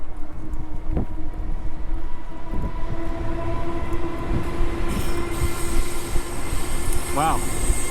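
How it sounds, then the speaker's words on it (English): A freight train rolls by in Japan with a steady low rumble and rattling cars, thumps from passing wheels and a brief high wheel squeal near the end. "It's a rare freight train."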